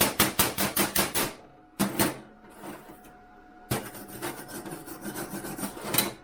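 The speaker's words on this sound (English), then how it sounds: "That's exactly what I want my welder to sound like. It's not sputtering, popping, it's not galloping" A cheap flux core welder lays a bead with a steady, even crackle. Sharp rhythmic bursts and brief gaps come first, then a continuous close, loud crackling run that lasts to the end.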